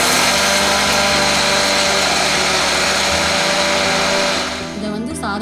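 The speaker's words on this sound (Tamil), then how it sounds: "அதில் கொஞ்சம் உப்பு சேர்த்து அரைக்க போகிறோம்." An electric mixer grinder whirs loudly, grinding roasted lentils with salt into a spiced powder, a steady high-pitched roar that winds down near the end.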